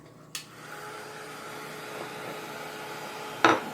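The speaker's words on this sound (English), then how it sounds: "now let me get my little dryer" A small craft dryer drying a sprayed chalk sign runs with a steady airy whir and faint hum, bracketed by two sharp clicks as it switches on and off.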